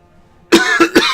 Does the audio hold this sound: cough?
yes